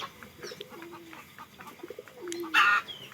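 Pigeons cooing close by, several soft low coos in short phrases, followed by a brief louder call near the end.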